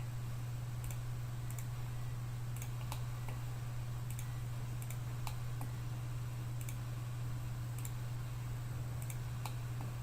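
Faint, sharp computer mouse clicks tick at irregular intervals over a steady electrical hum, close and alone with no talking.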